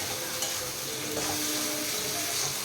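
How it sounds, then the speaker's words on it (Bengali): Ginger and green chili paste sizzles steadily in a pan while being stirred, a continuous soft frying hiss with faint scraping, no voices. "আদা লঙ্কা বাটার পেস্টটা দিয়ে ভালো করে নাড়িয়ে"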